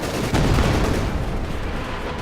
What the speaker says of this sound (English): now a bit of artillery once more from the S-26